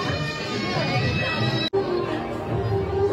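Dense crowd murmur at the Bhagvati Devi temple fair (jatra) in Munge, a steady chatter of many voices throughout, with one brief cut in the middle.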